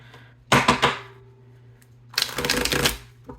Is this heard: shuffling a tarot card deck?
yes